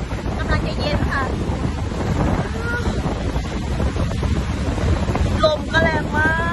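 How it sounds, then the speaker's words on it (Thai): Strong wind buffets the microphone on a cool outing in South Korea, a steady, loud rushing and rumbling that never lets up, with faint voices and a few high whistling tones near the end. "ลมก็แรงมาก"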